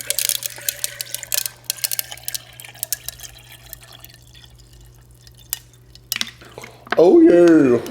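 A Wilder's Light pineapple mango lemonade drink mix packet being stirred into a glass of water: scattered clinks, drips and light tapping in a quiet room, ending in a burst of loud speech.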